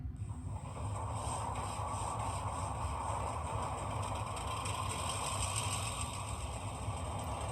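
Rapido N scale GMD-1 model diesel locomotive idling through an upgraded speaker, a steady, close, continuous engine rumble with mechanical clatter and a faint high whine, holding level and alone throughout.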